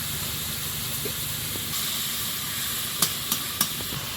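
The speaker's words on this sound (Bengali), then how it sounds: "একটু ধনে গুঁড়ো দিলাম এবার সব কিছু মিশিয়ে জল দিয়ে দেবো একটু" Spices with turmeric and coriander powder being stirred together in a pan as water goes in, a steady sizzling hiss throughout with a few sharp clinks of the spoon against the pan near the end.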